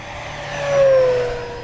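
An FMS 1700mm Corsair V3 radio-controlled warbird on a new propeller and 6s/8s power sweeps past with a steady motor whine that swells to a peak and fades as it flies by.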